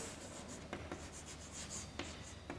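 Chalk or marker writing on a classroom board, faint scratchy strokes with a few short taps, heard close over a steady background hiss, with no voices.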